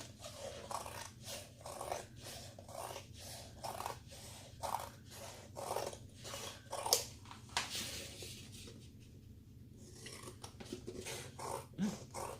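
Scissors cut down the dried paper sides of a handmade junk journal in a run of regular, crisp snips close to the ear. After a short pause, a few more snips follow.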